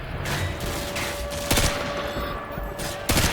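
Gunfire in the video game Call of Duty Modern Warfare 2, with a steady mix of rapid shots, sharp louder cracks and constant battle noise filling the whole stretch.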